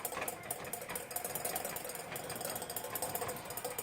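A whisk beats hollandaise sauce in a bowl, producing rapid, steady clicking and scraping that runs unbroken and close, with no voice.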